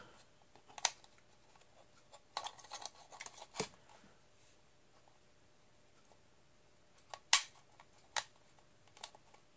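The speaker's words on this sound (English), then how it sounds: "Sorry, I keep hitting my camera" Several sharp knocks against a camera holder, scattered and uneven across the stretch, some near and loud, others lighter, with quiet gaps between them and no talking.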